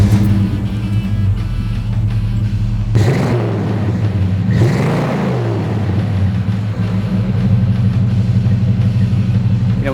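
A 1974 AMC AMX engine runs at a loud, steady idle with a deep rumble, then revs up briefly twice before settling back to idle.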